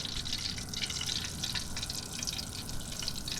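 Floured, egg-dipped chicken fries in oil on a Blackstone 22-inch griddle, a continuous dense crackling hiss heard close and even throughout, with no voices.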